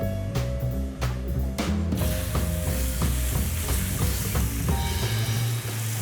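Chicken frying in hot cooking oil for Chinese birthday misua, a close, continuous sizzle with rhythmic clicking and scraping from the pan and utensil, with no talking.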